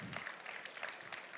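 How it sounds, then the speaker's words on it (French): Brief burst of audience applause at an innovation pitch competition final as a presenter is welcomed, a dense steady patter of many hands at moderate level. "je vais vous demander d'accueillir encore une fois sous vos applaudissements Stanislas"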